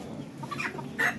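Backyard chickens cooped up in a coop with hay, pumpkin and cabbage give a few short, close clucks over a quiet background, with a louder burst near the end.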